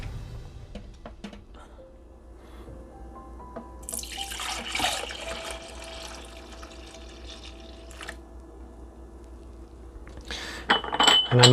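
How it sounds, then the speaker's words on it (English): Yogurt mixture pours and splashes into a glass Pyrex jar, with a few clinks and taps of glass and utensils before and after the pour. "Pyrex jar and you pour some into it."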